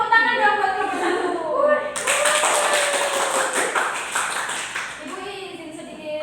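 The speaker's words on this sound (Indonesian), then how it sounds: "Beri tepuk tangan dong buat nomor" A small group claps briefly in a classroom setting, a light patter of hands under a speaking voice that continues over and after the clapping.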